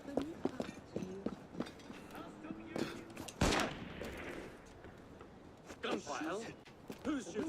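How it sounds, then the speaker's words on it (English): Gunfire in Assassin's Creed: Dead Kings comes as one sharp loud crack midway, among hoof clip-clops and other game sounds, while people talk over most of it. "Gunfire."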